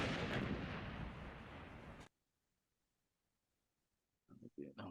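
A vapor cloud explosion test at a rig of congested steel standing in for plant and process equipment: a loud, broad blast roars for about two seconds, cuts off into silence, then a few sharp bursts follow near the end.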